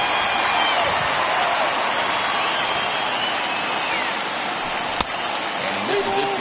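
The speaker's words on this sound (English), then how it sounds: "Well, that rain is really coming down right now." Heavy rain pouring down on a baseball stadium during a postseason game, a thick continuous hiss with faint crowd noise beneath, one brief sharp knock near the end.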